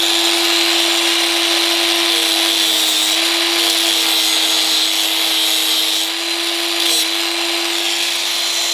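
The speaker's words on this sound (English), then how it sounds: "I usually just grind it off" Power grinder cutting a push-fit fastener off a metal shaft in a workshop, a loud continuous whine with a steady tone and harsh broadband grinding that barely lets up, no talking.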